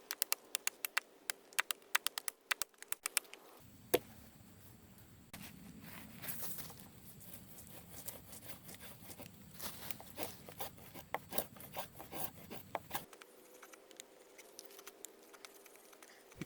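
Terävä Skrama bush knife trimming down a piece of wood, a run of dense scraping and shaving strokes between sharp isolated taps and knocks, close and fairly quiet with no talking.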